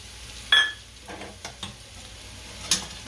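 Ground peanut powder is stirred into dry potato sabzi frying in a pan: a spoon gives a few scattered clinks and scrapes over a soft, faint sizzle.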